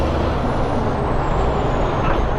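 A large truck on the road gives a loud, sustained hiss of air brakes close by, with a continuous roar of engine and traffic underneath and no talking.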